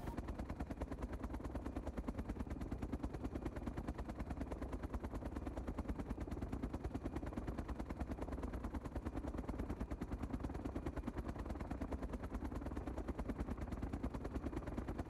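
A helicopter, a Mi-17 in the video game DayZ Epoch, thrums with a rapid, steady rotor chop that pulses evenly throughout, mid-distance and continuous with no voices over it.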